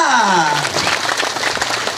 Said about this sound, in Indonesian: Mana nih tepuk tangannya?